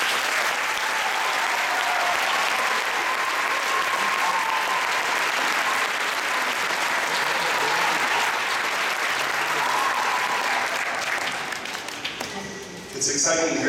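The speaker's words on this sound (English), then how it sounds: "And let's give them a round of applause." An audience at a school fall concert applauds student string players, a long, full, steady roar of clapping with some faint voices mixed in, tapering off before a brief swell at the very end.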